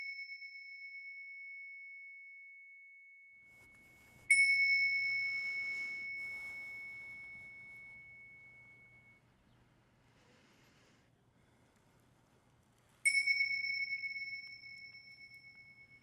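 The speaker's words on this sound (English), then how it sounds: "ring these bells together" Meditation bells struck together ring out twice, each clear metallic strike sustaining a pure tone that slowly fades in a quiet room, with no voices.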